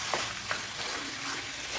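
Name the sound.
chicken frying with sautéed onions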